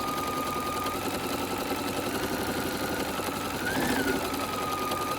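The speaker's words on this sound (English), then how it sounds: "spin it around like we did in our sewing machine test" A sewing machine runs steadily, stitching a cushion seam with a continuous fast mechanical chatter and hum, close and moderately loud, with a slight shift in tone near the end and no voices.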